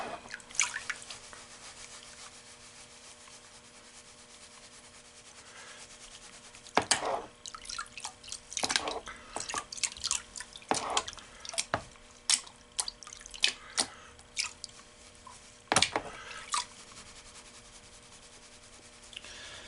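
Gold pay dirt from a one-pound bag being stirred and mixed by hand in water, giving soft rubbing and sloshing with scattered splashy drips and clunks, quiet at first and then more active, with no talking.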